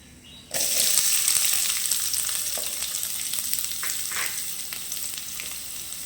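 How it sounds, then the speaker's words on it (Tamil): Mustard seeds and finely chopped onion frying in hot oil for a spinach stir-fry, starting with a sudden loud sizzle that stays steady with scattered crackles and pops, no talking. "கொஞ்சம் கடுகு போட்டுக்கலாம். கடுகு பொரிஞ்சதுமே சின்ன சின்னதாக கட் பண்ணியிருக்கிற வெங்காயத்தையும் அது கூட நம்ம சேர்த்துக்கணும்."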